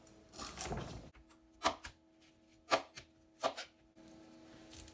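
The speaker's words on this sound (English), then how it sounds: "I'm just going to cut up my broccoli and add that as well" A knife chopping broccoli on a board: three or four distinct, close, sharp cuts spaced about a second apart against a quiet background.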